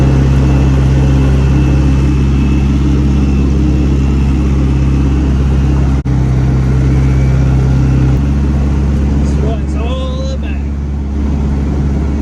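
A Mazda RX7 with all-wheel drive cruising on the road, its steady low engine drone and road rumble filling the cabin throughout, while voices chat over it.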